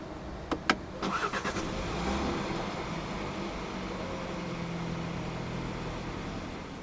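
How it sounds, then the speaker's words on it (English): A 2018 BMW X3 xDrive30i engine cranks via push-button start and catches after a few quick clicks, then settles into a steady low idle heard close up inside the cabin. "Put your foot on the brake and press the start button to the left of the steering wheel"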